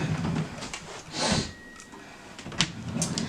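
A dresser drawer in a baby nursery slides open with a short wooden scrape, followed by faint rustling and a small knock, close by in a quiet room.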